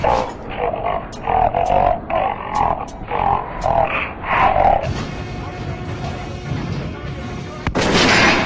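Weapon fire in Metro Last Light at a shooting range, a series of sharp shots spaced a fraction of a second apart, then mechanical clanking and a final loud blast, mixed with grunting and game voices.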